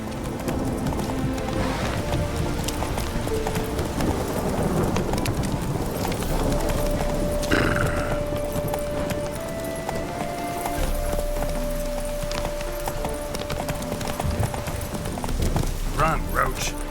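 Hooves clip-clop in a rapid, steady gallop as the horse Roach runs in The Witcher 3: Wild Hunt, continuing for about seventeen seconds under other game sounds and occasional voices.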